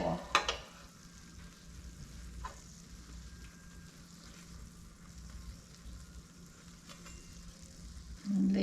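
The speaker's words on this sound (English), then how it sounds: "Be careful when you're cooking them because you can get burnt with this grease sloshing out on you." Apple pies frying in hot grease make a steady, broad sizzle with faint crackles, close and continuous, and a brief voice shows up near the end.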